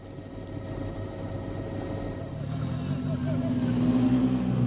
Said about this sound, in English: Helicopter tracking him down these straights